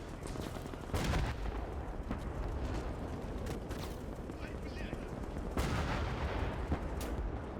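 A Su-76 self-propelled gun fires shells in the WWII strategy game Gates of Hell. Several sharp, booming shots come at spaced intervals over a constant battlefield rumble.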